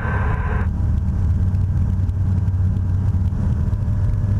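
Light airplane engine of a Sling 2 as throttle is added, a loud continuous low droning hum that holds steady from start to finish.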